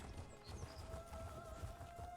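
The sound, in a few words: horse hooves clip-clopping in video game The Elder Scrolls Online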